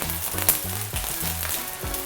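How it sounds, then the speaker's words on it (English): Korean rice paper japchae rolls (glass noodles and seaweed) pan frying in oil, giving a steady crackling sizzle with bursts of spatter, close by and alone, with a few soft clinks of turning. "We just want that crunchy sizzle to our rice paper"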